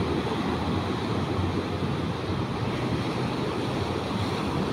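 Rough, angry ocean surf at Casiguran pounds the shore in a dense, continuous roar, loud and close, with wind mixed in and no voices.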